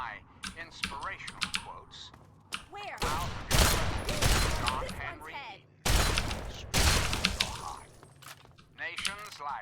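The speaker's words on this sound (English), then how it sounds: "Could the gun fire any slower?" Gunfire in Fallout 3, heard as loud broadband bursts at about 3, 4 and 6–7 seconds with slow spacing between shots, mixed with game sounds and some voices.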